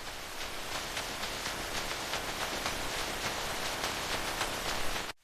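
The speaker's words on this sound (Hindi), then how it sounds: "टिन की छत पर गिरती बूंदों की आवाज जैसे कोई अपना ही म्यूजिक बज रहा हो।" Steady, dense rain patters onto a village tin roof, a continuous hiss of drops holding even intensity for about five seconds before cutting off abruptly.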